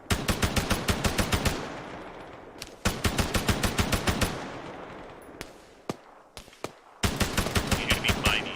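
Rapid bursts of automatic gunfire in the Arma 3 military game, loud regular volleys broken by short pauses and a few isolated shots, with sustained firing resuming near the end.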